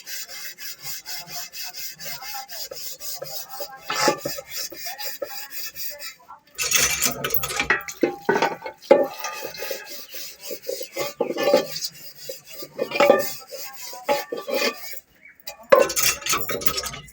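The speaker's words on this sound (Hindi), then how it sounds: "सब बर्तन जो है मैंने धो लिए हैं" Blackened cooking pots and dishes scrubbed by hand, a steady rasping, rubbing scrape with clinks of metal utensils, close and continuous with brief pauses between bursts of scouring.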